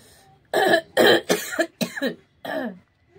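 A person coughs about six times in quick succession, harsh and close, the bursts separated by short pauses, with nothing else heard.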